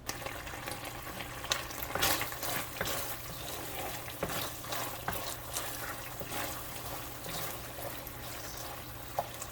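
A sugary rice cake topping mixture is stirred in a pan while it fries until brown, a soft, steady sizzle broken by repeated scraping and clicking of the spoon.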